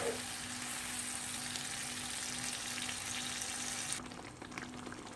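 Chicken angara cooks in a pan on medium heat, a steady close frying sizzle and bubbling with a faint constant hum, which drops sharply near the end.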